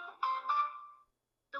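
A telephone ringback tone plays while a number is being dialed, two sustained tonal pulses close together followed by a pause and the start of a third, clear and moderately loud with no talking over it.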